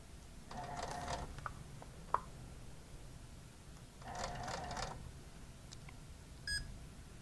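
A quilting machine stitching a quilt on a small quilt frame, two short bursts of rapid whirring at low manual speed separated by quiet, with a click and a brief beep near the end.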